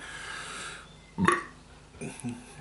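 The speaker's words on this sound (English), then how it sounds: "Pardon the burp." A man gives a single short, throaty burp after drinking Sharp's Doom Bar beer, with a brief trailing sound afterward and a quiet background.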